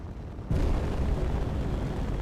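Big missiles exploding in a video game: a sudden loud, rumbling blast that starts about half a second in and rolls on as a sustained, noisy boom.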